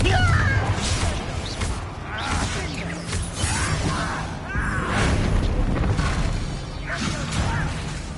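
Confringo fire-blast spell in the Hogwarts Legacy video game: a series of booming impacts and crashing bursts with whooshing swishes, set in dense, continuous game combat noise.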